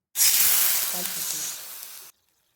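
Loud hissing sizzle of ghee hitting a hot wok for modak, a steady crackling burst lasting about two seconds before cutting off.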